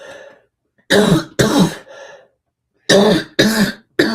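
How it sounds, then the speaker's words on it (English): A person coughs in two bursts, each a pair of loud, close, harsh coughs with a brief throaty sound between them, separated by silence. "See, I knew I was gonna start coughing."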